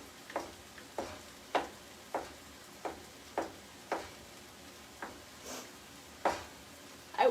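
Empanada filling being sautéed in a pan, with a run of about a dozen short, sharp scraping or stirring strikes at a steady rhythm, each followed by a soft sizzle, close by and fairly quiet with no talking.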